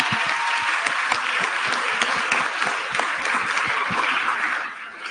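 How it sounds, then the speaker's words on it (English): Audience applause fills a room at a Caribbean youth climate action event, a steady dense wash of many hands clapping close and loud for about five seconds, easing slightly at the end. "Let's not get to clapping yet, though, guys."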